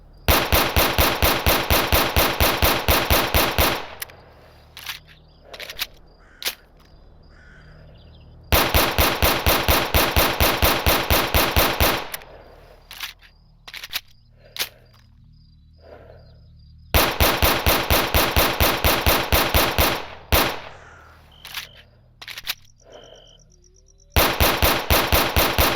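A USP 9mm pistol in S.T.A.L.K.E.R. Anomaly fires in long, rapid, evenly spaced bursts of loud game gunshots, with brief quieter pauses of clicks and reload noises between the strings of fire.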